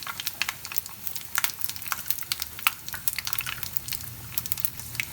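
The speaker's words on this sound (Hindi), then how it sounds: "अब एतऽ हम लोहिया में तेल गरम होय लए दऽ देलियै हँ। एहिमे हम पचफोरना दऽ देबै, 2टा तेजपत्ता दऽ देलियै हँ" Faint, crackling sizzle of panch phoron, two bay leaves and dried red chillies frying in hot oil in an iron wok, with scattered soft pops over a low hiss.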